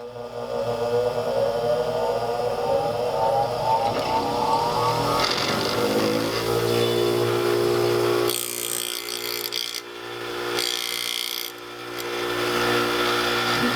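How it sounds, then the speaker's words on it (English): A bench grinder used for sharpening drill bits whirs up to speed with a rising tone, then settles into a steady close hum. Harsh grinding bursts come in toward the end. "We turn your grinder on."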